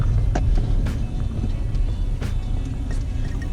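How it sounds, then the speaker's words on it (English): A Ford Fiesta ST engine drones low and steady from inside the car, with occasional clicks and rattles over the constant rumble. "I can hear engine noises through there"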